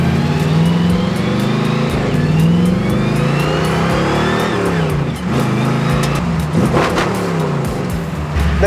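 A Ford Mustang project car pulls away and accelerates, the engine note rising through revs in sweeping climbs, loud and close with a brief dip and shift midway, no talking.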